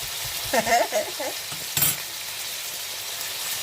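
Pork sizzles loudly and steadily on a hot grill pan, a dense close frying hiss with a few brief scrapes and clinks of utensils over it and no talking.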